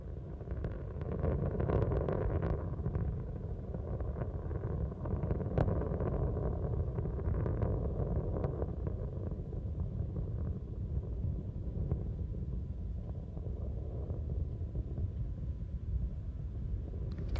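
Space Shuttle Columbia's three liquid-fuel main engines during the STS-87 launch, throttling back through maximum aerodynamic pressure: a deep, steady, distant rumble with rough crackling texture, continuous and alone.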